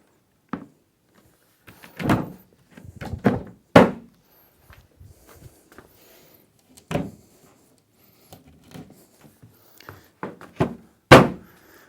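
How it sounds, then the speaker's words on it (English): Wooden side panel being fitted onto a Cooke & Lewis 1000mm pan drawer unit, with scattered close knocks, thuds and light taps at irregular intervals and quiet gaps between, no talking. "I take my right hand side panel and fit it onto my unit, being careful with the drawer runners as you do so."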